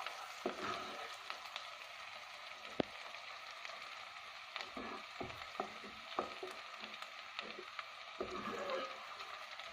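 Onions soften as they fry gently in a pan, giving a quiet, steady sizzle with scattered stirring ticks and scrapes from a spoon throughout, close but low in level.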